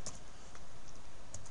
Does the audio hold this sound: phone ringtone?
no